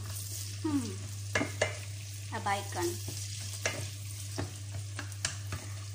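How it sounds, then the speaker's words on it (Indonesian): Onions sautéing in a pan on an electric stove give a low, steady sizzle with intermittent stirring scrapes and clinks, under a constant hum. "kita tumis bawang sampai harum"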